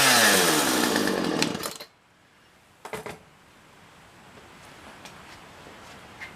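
A Poulan 2150 chainsaw, freshly carburetor-cleaned, runs loud and close for under two seconds, then cuts off, followed by a short burst near the three-second mark and a faint low murmur.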